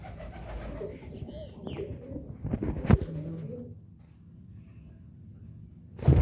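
Soft, low cooing of pigeons nearby, with a brief louder rustle partway through and a quiet stretch before a sudden noise at the end.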